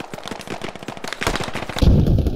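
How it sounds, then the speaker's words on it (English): A grenade blast in the military shooter game Squad, preceded by a rapid crackle of gunfire, then a heavy booming burst near the end of the short stretch. "Damn it, fucking grenade."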